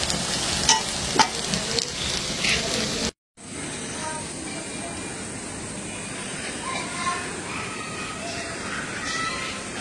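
Colocasia leaf fritters fry in oil with a loud, steady sizzle and light crackling close by, broken by a brief cut before continuing, with voices talking over parts of it.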